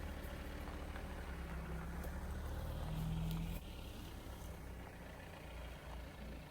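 A Mahindra Roxor off-road vehicle runs with a steady low engine drone that swells slightly, then eases off as it makes turns, heard from inside or nearby with no speech.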